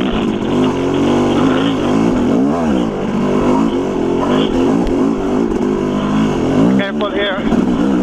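A motorcycle climbs a hill in first gear with no clutch lever, its engine droning and revving close by in rising and falling surges while people talk over it.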